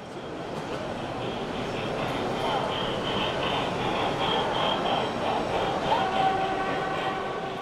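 Sound-equipped model railway locomotives at the Modell Hobby Spiel show in Leipzig give a continuous rumbling run with a brief whistle near the end, heard under murmuring exhibition crowd noise.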